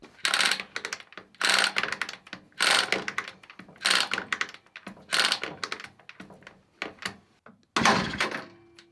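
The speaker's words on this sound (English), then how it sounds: "when you push this lever down, it will ratchet the coil up" An old bike engine abandoned for twenty years, its coil spring starter ratcheting as a lever is pushed down: repeated loud bursts of clacking, roughly one every second, with a final heavier burst near the end.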